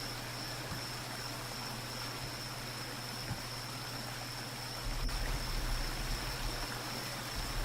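Steady broadband rush of river water flowing in the survival game BugOut, continuous and fairly close, with a low hum beneath and a slightly louder swell near the end.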